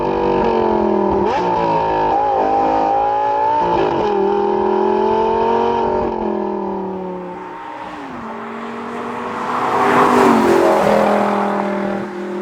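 A Lamborghini Gallardo LP570-4 Superleggera Edizione Tecnica sports car engine revs and climbs through repeated gear changes, loud and close, its tone dipping on lifts and surging again during hard acceleration on a road.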